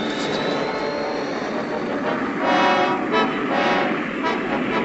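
A steady airplane engine drone fills the scene in a Spider-Man video game. It is loud and continuous, with a faint rising whine, and swells slightly partway through with no talking.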